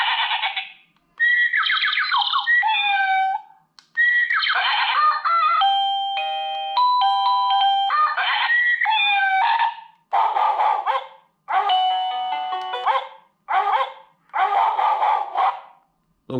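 Electronic doorbell chimes installed on a car as a pedestrian warning system, a series of short synthetic melodies and bird-like chirping tunes, loud and close, each separated by brief pauses.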